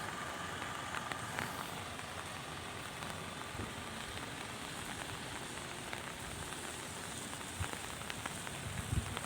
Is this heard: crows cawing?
no